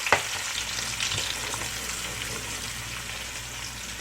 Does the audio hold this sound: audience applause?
no